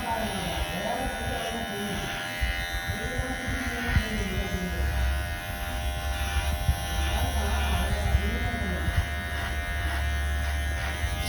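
Electric hair clipper fitted with a number 1 guard buzzes steadily and close while cutting hair during haircut training, a continuous whine with a voice talking over it.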